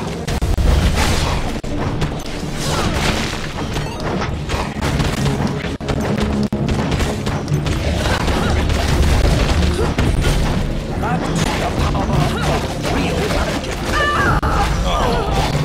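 Bombs going off during Gauntlet gameplay, with a dense, continuous roar of booming explosions and crashing effects filling the whole stretch, loud and layered with game noise.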